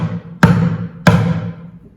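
Tipped up on the edge of a foot, a plastic bucket drum is hit twice in the center, giving two booming, ringing strikes a little over half a second apart, close with no voices.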